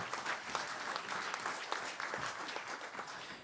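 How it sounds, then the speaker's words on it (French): An audience at a farming conference on livestock biosecurity claps steadily, a dense, even burst of applause filling the room with no voices over it. "Et je pense qu'on peut applaudir la lutte en cours et tout le travail qu'ils font."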